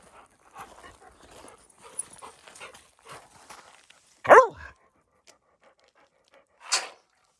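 Dogs at feeding time in a woodland trailer home, with soft panting and a faint whimper under a quiet voice, then one sharp loud bark and a second shorter bark a few seconds later.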